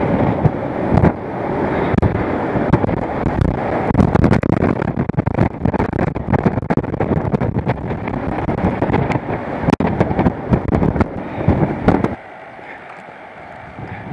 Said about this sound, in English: Let some sound out. That wind